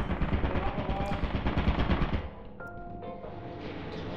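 An automated turret in Lethal Company fires a loud, rapid burst of machine-gun shots for about two seconds, then cuts off and leaves a quieter hum with faint background voices.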